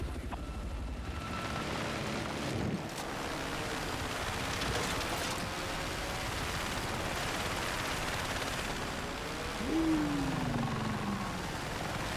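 A video game helicopter drones steadily at low level, mixed with distant gunfire and explosions and a rising mechanical whine near the end.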